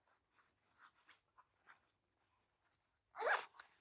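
Zipper on a stretchy outer pocket of a Thule Construct 24L backpack, quiet rasping zip pulls and fabric handling, then one louder, quick zip near the end, up close in a quiet room.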